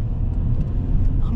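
Car driving during a mock driving test, a steady low engine and road rumble from inside the cabin, continuous and fairly loud, with faint voices in the car.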